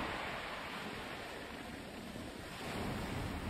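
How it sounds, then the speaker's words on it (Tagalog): Ocean waves wash onto a shore in a steady, soft, broadband roar with a gentle swell in the surf and no voices over it. "Tunog nga naman ng mga alon,"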